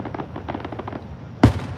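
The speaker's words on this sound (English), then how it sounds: "just walking along and having these fireworks go off" Fireworks bursting during an evening stroll outdoors, a rapid crackling patter followed by a sharp, loud bang near the end.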